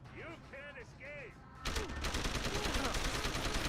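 Rapid SMG gunfire in the game Deus Ex erupts loud and dense after a short stretch of quieter game sounds, continuing as a sustained burst to the end.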